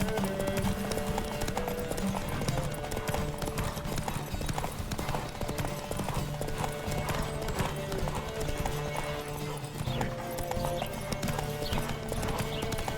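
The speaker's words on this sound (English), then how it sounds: "Don't spare the horse." Rapid, steady hoofbeats of a galloping horse in The Witcher 3 continue throughout, loud and close, over a dense background of game music and effects.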